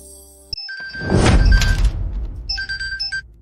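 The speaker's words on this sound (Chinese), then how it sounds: "阎罗大人，你怎么想到给我打电话了？" A telephone rings with an incoming call, its bright electronic tone sounding at the start and again near the end, broken in the middle by a loud crashing thud.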